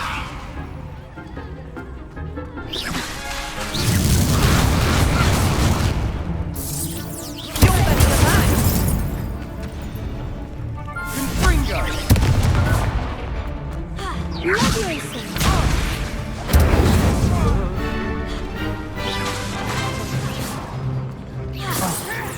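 Spell blasts in Hogwarts Legacy, Confringo and Incendio, come as repeated whooshing bursts and crashing impacts spread over twenty seconds, loud and close, amid battle noise and voices.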